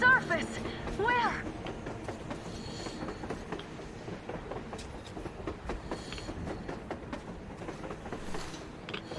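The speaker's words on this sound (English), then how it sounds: "A train! A damn train on the surface!" A train on the surface in Metro Exodus, heard as rhythmic clickety-clack of wheels on rails with faint squeals, moderately distant and steady, while a voice talks over it.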